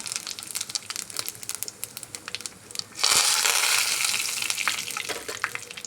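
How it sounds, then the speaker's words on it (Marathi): Cumin seeds hit hot oil for a black-eyed pea amti: quiet crackles and stirring give way to a sudden loud burst of close sizzling that slowly settles but keeps hissing. "तेल तापलं, आता आपण त्याच्यात जिरं टाकू"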